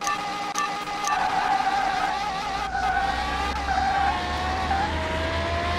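A V10-swapped Volkswagen Beetle in Car Mechanic Simulator 2021 revs hard and accelerates, its engine note climbing steadily and loud with a skidding, tire-squeal edge and a deep low rumble underneath.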